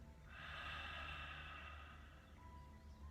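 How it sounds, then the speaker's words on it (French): A long, hissing yoga ocean breath exhaled through a constricted throat with the mouth closed, heard as a soft, steady rasp lasting about two seconds over quiet background noise. "Bouche fermée pour la respiration de l'océan."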